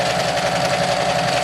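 A serger stitches fabric for a homemade tank top, giving a steady, loud mechanical whir with fast, even rhythm that runs unbroken and close up the whole time, with no talking.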